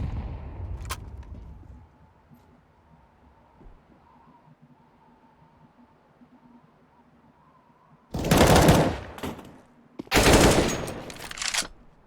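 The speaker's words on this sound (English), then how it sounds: "Bear with a clean M4 kill onto Atomic, traded by Freshie" Counter-Strike match gunfire at an ESEA Premier relegation game, including an M4 rifle: two loud, dense bursts of rapid automatic shots late in the clip, after a quieter stretch of low in-game ambience.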